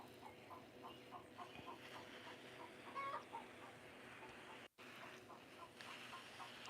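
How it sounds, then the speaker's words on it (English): Hens cluck and squawk inside a backyard chicken coop as one lays an egg, a busy, steady chorus of repeated calls close by with no talk over it. "that chicken in there is going crazy because somebody's laying an egg"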